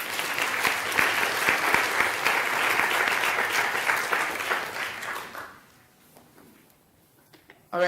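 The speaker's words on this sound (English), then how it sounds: "So let's give them a round of applause as well." Audience applause for a panel at a child welfare event, a dense steady clapping that fills the hall for about five seconds, then fades out into near silence with a brief burst at the very end.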